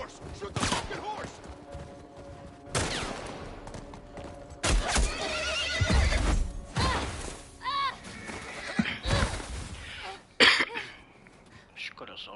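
A horse in the video game The Last of Us Part 1 neighs and whinnies amid clip-clopping hooves, gunfire bursts and shouting voices during a chaotic chase scene.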